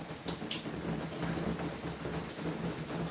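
Steady simulated rain inside a reptile rain chamber, a continuous hiss of falling water with scattered brighter drips and patters, close and fairly loud throughout with no talking.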